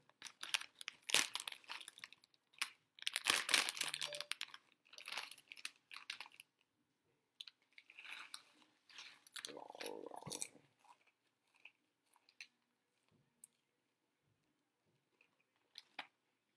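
Someone chews crunchy food close by, producing faint, irregular crackling crunches in short bursts separated by quiet pauses, with no talking.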